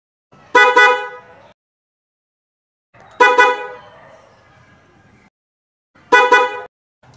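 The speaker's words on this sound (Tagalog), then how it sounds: "Subukan natin i-busina." Three short, bright horn blasts from a Honda Beat Fi motor scooter sound alone in succession, each a quick toot with a slight fading tail, separated by silence.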